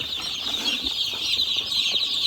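Chickens roam a yard after being let out, with soft clucks and wing flaps over a steady, hissy outdoor background of insects or wind; no one talks.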